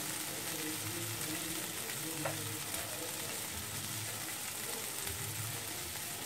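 Boiled bottle gourd fries in a pan with a constant sizzle, and a spatula stirs it in a few scraping passes. Nearby and steady, with no speech.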